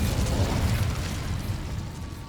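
An Incendio fire spell cast in the game Hogwarts Legacy makes a dense, roaring burst of flame with a heavy low rumble that swells and then slowly fades over a couple of seconds.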